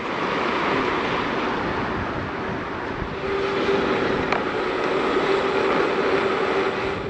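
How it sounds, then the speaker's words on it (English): Constant wind buffeting a microphone, a dense rushing roar that never lets up, with a faint tone briefly rising through it. "It's quite windy, hopefully you can hear me."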